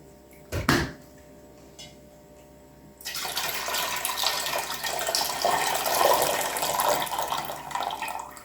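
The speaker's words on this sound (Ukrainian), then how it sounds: "Зливаємо воду в кастрюлю" Water pours steadily into a pot, a broad splashing rush that starts abruptly after a brief knock and quiet, continuing loudly to the end.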